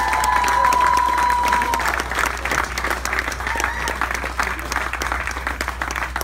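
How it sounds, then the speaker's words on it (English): Audience giving a big round of applause as a Ben & Jerry's guest comes to the podium, steady dense clapping mixed with crowd murmur for several seconds at moderate loudness. "Let's give him a big round of applause."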